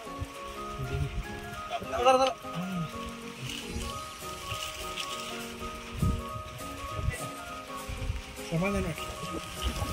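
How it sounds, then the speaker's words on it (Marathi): Steady rain patters on a surface while people talk nearby, with occasional brief calls and movement sounds over the soft hiss. "पावसाचं देखील आगमन झाले"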